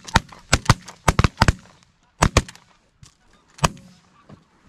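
Shotgun blasts during a duck hunt, several sharp reports in quick clusters followed by two more and a final lone shot, loud and close with quiet gaps between.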